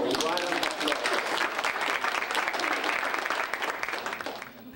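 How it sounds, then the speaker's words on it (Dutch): Warm applause from an audience, thick and continuous at first and then thinning and fading away toward the end. "Dan geef jezelf een warm applaus."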